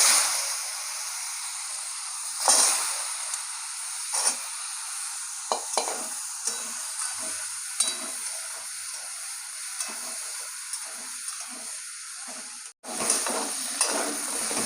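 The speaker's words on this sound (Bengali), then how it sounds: "কড়াইয়ে তেল দিয়ে দিয়েছি এবার আলুটা ভেজে নেবো" Potatoes fry in oil in a kadai, a steady close sizzle punctuated by intermittent stirring scrapes of a spatula, with a sharp clatter near the end.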